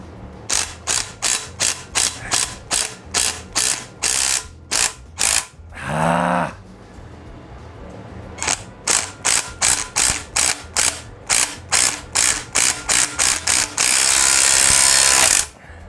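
A ratcheting puller clicks in rapid bursts of sharp metallic ratchet strokes during timing chain work on a 2006 R53 Mini Cooper S, with a brief whirring tool sound midway and a harsh burst of noise near the end.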